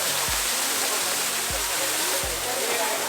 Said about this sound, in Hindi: देखो वो दिख रहा है वाटरफॉल, छोटा।